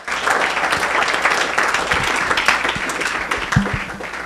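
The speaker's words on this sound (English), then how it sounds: "a big round of applause to all of you" A keynote audience applauds steadily, dense clapping filling the room at a constant loudness with a few sharper claps standing out.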